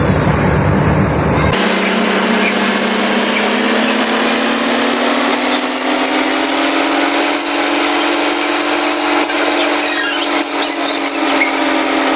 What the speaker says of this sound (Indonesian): di sini sudah siap ya mesin bornya, mesin bor duduk ya